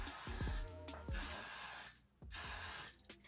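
An aerosol can of hair spray hisses in three long bursts separated by short pauses, loud and close, with a rattling click before each spray.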